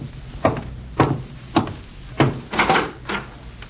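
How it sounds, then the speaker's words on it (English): Knocking at a door, six sharp raps spaced roughly half a second apart, fairly close and clear over a quiet background. "I'm interrupted by a knock at the door"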